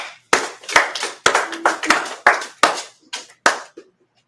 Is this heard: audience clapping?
yes